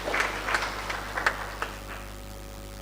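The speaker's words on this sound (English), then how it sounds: "A round of applause for having the representatives." A university workshop audience applauding visiting representatives. A handful of scattered clap bursts are heard in a large room, moderately faint over a steady electrical hum, then thinning out toward the end.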